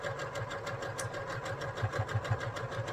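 A sewing machine stitches quilt sections together with a quarter-inch seam allowance, a close, steady rapid chatter of needle strokes running continuously throughout, with no voices.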